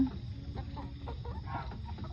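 A flock of about 300 laying hens clucks and murmurs, a busy, low, overlapping chatter of fowl sounds heard fairly close and moderately quiet.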